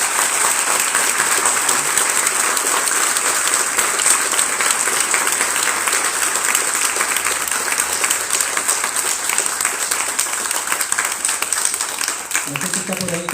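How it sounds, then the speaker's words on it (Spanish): Sustained applause from an audience at a talk about false accusations in a family court case, dense and steady clapping throughout, with a faint voice near the end. "Quería pedir un aplauso por el valor que tiene."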